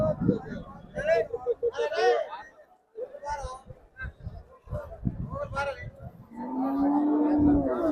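Cows and buffaloes low at a busy livestock market in Chitradurga, with a long, deep moo near the end and people talking nearby throughout.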